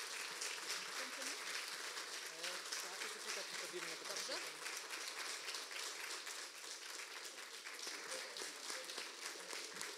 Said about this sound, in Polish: A państwa poproszę o wielkie brawa